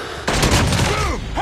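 Rifle shots from an SPR 208 marksman rifle in Call of Duty, a sharp broadband crack starting abruptly and ringing out with a loud, dense game soundscape behind it.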